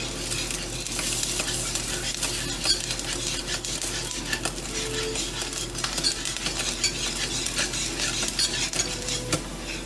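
Melting chocolate being stirred in a pan for a French silk pie, a steady scraping and soft clinking of a utensil against the pan with a faint sizzle underneath, continuous and close, with no one talking.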